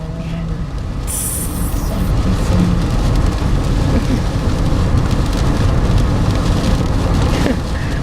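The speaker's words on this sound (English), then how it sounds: "That's the North Carolina rain" Heavy rain in North Carolina falls in a loud, steady downpour with dense drumming on surfaces, a short higher splash early on, continuing unbroken throughout.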